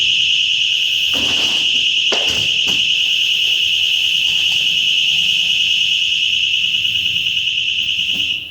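An alarm system blares a continuous, loud, high-pitched electronic tone without a break, with a few faint knocks and thuds in the room beneath it.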